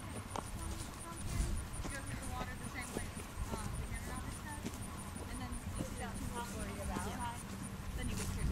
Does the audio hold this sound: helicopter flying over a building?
no